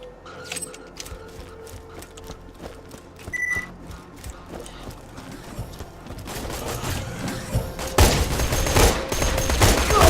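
Gunfire from a Jakob-stock gun with somewhat heavy recoil in Borderlands 2, scattered mechanical clicks and shots early on that build into dense, loud sustained firing toward the end, with no talk.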